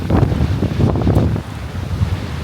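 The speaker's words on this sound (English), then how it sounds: "hopefully the wind ain't too bad" Gusty wind batters the microphone on an outdoor hillside walk near a waterfall, loud buffeting rumbles rising and easing in waves without any talking.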